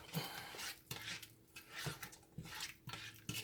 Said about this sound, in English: And we're gonna stir it up.